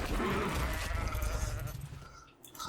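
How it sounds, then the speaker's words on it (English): A blue sheep bleats in the video game Ark Survival Ascended, one loud drawn-out bleat up close that fades over a couple of seconds, then a faint quieter bleat follows. "That is a blue sheep, and it has a baby blue sheep."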